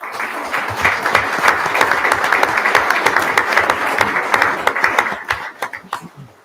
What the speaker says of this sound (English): That's worthy of applause in itself